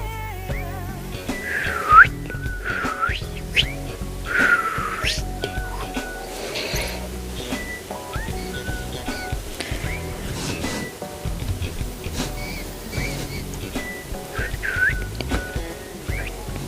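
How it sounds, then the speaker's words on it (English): Short whistled notes float through a song recording, recurring in brief high phrases over the music's backing. "Is he doing the whistles?"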